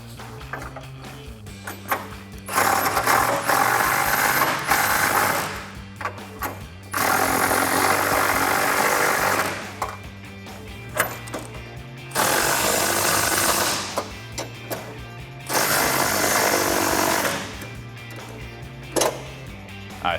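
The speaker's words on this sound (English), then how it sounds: "Now we can take our 18mm socket and snug everything up." Bolts on a 2011-2016 Ford Super Duty headlight mount snugged up with an 18mm socket on a power tool, several loud whirring and rattling bursts of a few seconds each, separated by short pauses.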